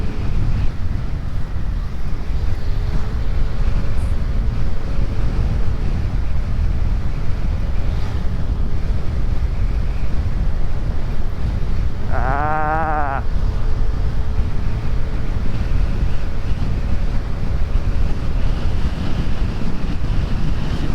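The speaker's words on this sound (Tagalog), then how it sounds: "Napakalakas ng hangin, para kami tinutulak pa balik." Very strong wind blows by the sea in Camarines Sur during a motorcycle ride, a loud, steady roar of microphone buffeting throughout, with a short warbling sound partway through.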